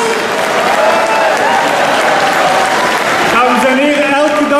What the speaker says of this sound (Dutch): Geef hen een applaus om hen te ondersteunen.